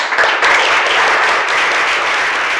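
Classroom audience of teacher-training students bursts into dense, continuous applause, loud and close, many hands clapping without pause for the whole stretch.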